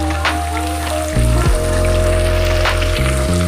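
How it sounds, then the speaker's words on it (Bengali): Sliced onions hit hot mustard oil in a pan and sizzle loudly, the sharp burst of frying rising suddenly and holding as a steady crackle. "এবার আমি পেঁয়াজগুলো সব ছেড়ে দেবো"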